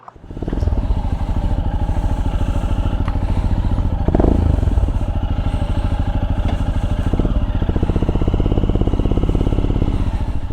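A Royal Enfield motorcycle engine runs steadily and loudly throughout, with a deep throbbing exhaust and a brief surge partway through, up close.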